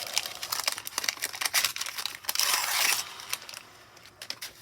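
Crinkling and tearing of 1990 Topps baseball card pack wrappers, close and fairly loud, with a run of sharp crackles followed by a sustained crumpling burst, and no talking.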